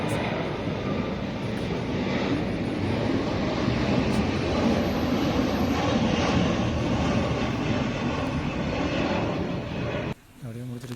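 Airplane passing overhead in Dubai, a loud continuous roaring drone that holds steady for several seconds before cutting off abruptly.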